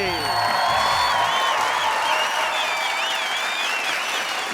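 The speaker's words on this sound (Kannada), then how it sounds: "ಸಾಧು ಸರ್ ಚಪ್ಪಾಳೆ." Studio audience applauds and cheers as the judges come onstage at a Kannada comedy show, a dense continuous roar of clapping with whoops and a tonal music bed, loud and steady throughout.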